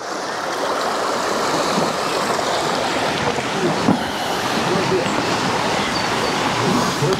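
A river flows steadily, giving a continuous loud rushing wash of water with breezy outdoor noise and no clear pauses. It is heard outdoors on an overland road trip between Germany and Belgium.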